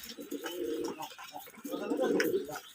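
Domestic pigeons on a Bangladeshi pigeon farm coo in two low, rolling bursts, close and fairly loud, with faint chirps and background murmur between them.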